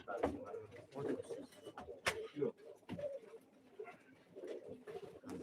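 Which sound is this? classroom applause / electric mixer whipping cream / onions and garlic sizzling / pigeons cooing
pigeons cooing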